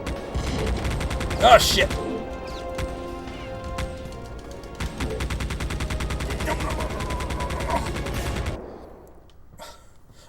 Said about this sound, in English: now there's a guy with a gun